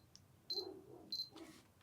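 Two short high-pitched focus-confirmation beeps from a Canon camera fitted with a Canon 28mm f/2.8 lens in manual focus, evenly spaced and close, with faint handling clicks in a quiet room.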